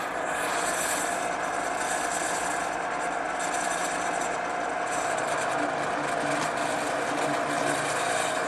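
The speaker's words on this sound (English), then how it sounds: "I'm ready to drill those over here on the drill press" A drill press bores into wood with a brad point bit, a steady close motor whine and grinding rasp running continuously at constant loudness.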